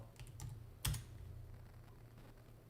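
Typing on a computer keyboard in a day-trading room, a quick burst of key clicks followed by one sharper, louder keystroke, then faint scattered taps, no talking.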